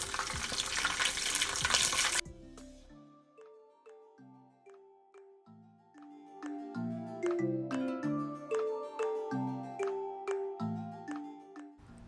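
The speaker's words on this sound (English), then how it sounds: "Add oil to the pan, 1 tablespoon of cumin seeds, then add whole garam masala and bay leaves." Cumin seeds, whole garam masala and bay leaves hit hot oil in a pan with a loud, hissing sizzle for about two seconds, then a plucked musical melody takes over.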